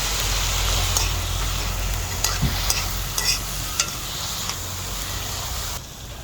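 Beef frying and being stirred in a pan, giving a steady loud sizzle with scattered scraping and clinking from the utensil.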